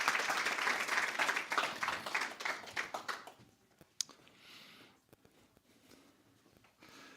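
A congregation at a Sunday church service applauds for about three and a half seconds, the clapping dense and loud, then breaking into a few scattered claps and a single sharp tap before quieter room noise with faint voices.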